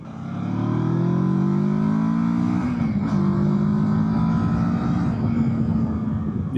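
A 2024 Kawasaki Versys 650 motorcycle engine accelerates close up, its rising drone shifting pitch mid-pull and carrying on as a loud, steady engine note with wind noise.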